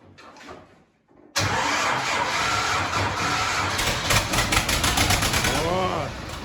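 A LuAZ off-road vehicle's engine is cranked after a quiet stretch with faint voices. It catches abruptly and settles into a loud, rough, uneven idle with sharp revving pulses close by.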